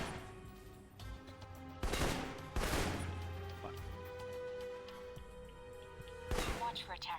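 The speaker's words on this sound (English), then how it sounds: "For long-range encounters, the assault rifle's the key. It's accurate, powerful." Assault rifle gunfire in the Alpha Protocol video game, a few loud separate bursts spaced seconds apart over a steady game backdrop, with a voice speaking between the shots.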